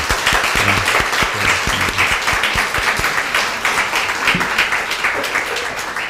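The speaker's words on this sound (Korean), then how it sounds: "우리 너무 수고하셨다고 교회적으로 한번 박수." Church congregation at a Sunday worship service claps together in thanks, a lively, steady round of applause from many people filling the room.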